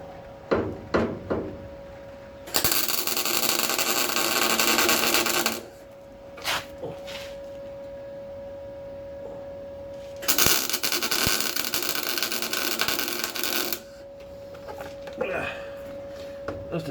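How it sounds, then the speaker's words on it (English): Two long bursts of crackling, sizzling arc welding tacking metal on a Mk V Ford Cortina car body, each several seconds long, separated by clanks, taps and handling knocks, with a faint steady electrical whine throughout. "I'm going to weld this to the bottom."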